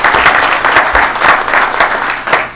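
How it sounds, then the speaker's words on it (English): Attendees at a board of trustees meeting applaud in a close, loud, continuous patter of many hands, with gentle swells in intensity throughout. "I think a round of applause for Lene Richardson would be."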